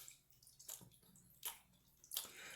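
Wet plant material, whole hemp buds soaked for a CBDa and CBGa supplement, splashes into a coffee filter in a few soft, close pours, followed by faint dripping and squishing with no one talking.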